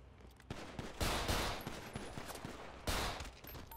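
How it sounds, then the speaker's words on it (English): Repeated gunshots in a GTA 5 gang shootout, loud broadband cracks in a ragged burst with two heavier volleys near the start and later, close and dense with no talk over them. "Shoot it again, shoot it now,"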